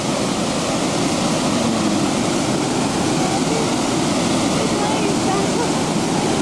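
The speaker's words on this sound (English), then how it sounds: "the river splishes and splashes below like a," The river below Great Falls rushes in a steady, loud wash of turbulent water that fills the whole stretch without a break.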